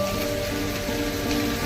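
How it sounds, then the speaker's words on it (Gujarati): Steady rain falls outdoors near a shopping tower, a continuous even hiss of drops without pause or talk. "વરસાદે બહુ સારું છે યાર"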